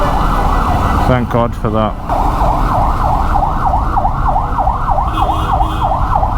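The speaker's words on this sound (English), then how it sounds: "Can a bike go faster down EDSA than an ambulance?" An ambulance siren wails steadily in heavy traffic on EDSA, heard from a KTM Super Adventure 1290 motorcycle. The repeating up-and-down sweeps are loud and close over constant engine and road rumble, and a short burst of yelp tones comes early on. Someone speaks briefly.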